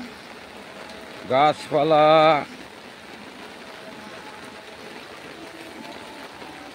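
Rain falls steadily and evenly in the background, and a voice speaks briefly near the start.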